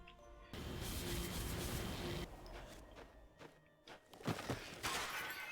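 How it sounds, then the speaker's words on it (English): Clay pots shatter in the video game The Slormancer, a few crashing breaks amid bursts of game noise, with quieter gaps between. "But there are pots I haven't smashed yet, Brian."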